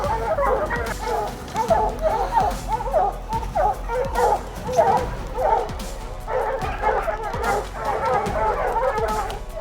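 Several hunting dogs bark and bay nonstop at a mountain lion treed in the Idaho mountains, a dense, rhythmic chorus of close barks mixed with high yips and whines.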